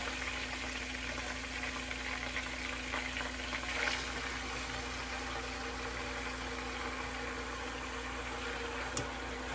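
Bacon slices frying in a pan sizzle with a steady, even hiss that holds at constant loudness from start to end, with no voices over it.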